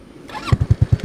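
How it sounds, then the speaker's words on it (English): A 250cc water-cooled go-kart engine is cranked and catches, settling into a quick, even run of six loud, close exhaust pulses right after a brief rising whir. "Okay, start the engine. First, turn on the power. Okay, engine started."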